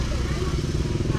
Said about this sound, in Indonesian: Tuh nih motor lagi muterin.